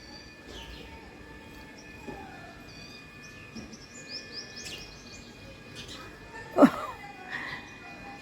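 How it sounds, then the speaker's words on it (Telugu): Small birds, including house sparrows, chirp in scattered short tweets from above, fairly faint over a steady background hum, with a louder chirp or knock near the end and occasional talk nearby. "పైన చిటిపిట్ట ఉంది ఊరపిచ్చుక ఉంది పైన"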